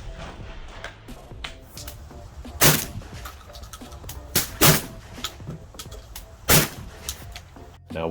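A Panzer M4 semi-automatic shotgun, a Benelli M4 clone, fires several sharp, loud shots at uneven intervals outdoors, with background noise between them and no voices.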